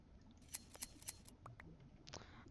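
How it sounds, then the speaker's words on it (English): Shears snip a sheep's wool in the Minecraft video game, with three crisp clicks in quick rhythm followed by a few softer clicks, faint under a low background hiss. "You are officially sheared, sheep."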